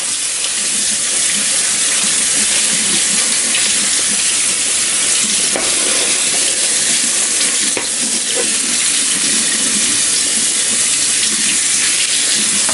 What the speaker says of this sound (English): Alright, so we'll give that a rinse.